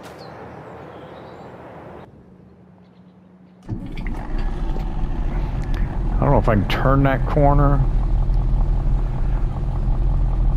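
A truck engine in Farming Simulator 22 on an old Polish farm starts after a brief lull, then holds a steady, loud low rumble while someone talks over it.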